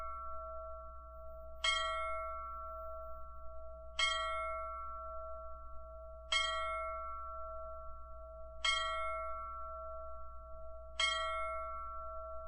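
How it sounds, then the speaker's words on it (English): A bell in a classic adventure video game strikes five times at even intervals of a bit over two seconds, each sharp ring fading over a steady electronic hum. "The bell!"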